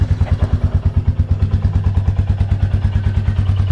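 A Royal Enfield Meteor 350 motorcycle engine idles steadily nearby, its loud, rapid, even thumping pulse filling the whole stretch with no voices.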